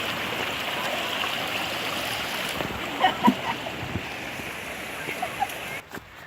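A creek flows steadily at a trail crossing in Pisgah Forest in fall, a constant rushing wash of water, with a few soft knocks and thumps partway through.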